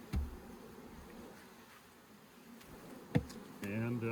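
Honey bees around an opened hive on a pallet, a faint, diffuse insect buzz over a quiet outdoor background, broken by a few sharp knocks and a brief louder hum near the end.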